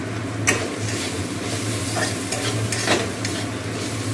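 Chopped pointed gourd (potol) frying in a pan, a steady close sizzle with a low hum and intermittent scraping stirs, no talking.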